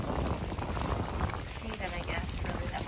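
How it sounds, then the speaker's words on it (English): Steady rain falling on the Appalachian Trail, a dense close patter of drops on surfaces continuing without pause, with a voice faintly underneath. "It's rainy."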